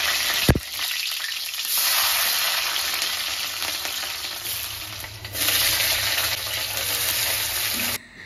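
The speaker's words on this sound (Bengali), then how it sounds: "এখানে আছে রসুন, পেঁয়াজ আর কাঁচা লঙ্কা ফোড়নে দিই একটু" Garlic, onion and green chili sizzle in hot oil with a steady, loud frying hiss, briefly interrupted by a stir and a clink near the start, ending abruptly.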